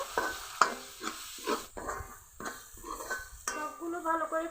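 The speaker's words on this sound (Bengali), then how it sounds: "হলুদের গুঁড়া দিব ভাজা মশলার গুঁড়া সামান্য মরিচের গুঁড়া আর কিছুক্ষণ কষিয়ে নেব" Spinach puri filling, sautéed with turmeric, roasted spice powder and chili powder, gets stirred hard in a pan, with repeated spatula scrapes and clinks over a soft sizzle, loud and close.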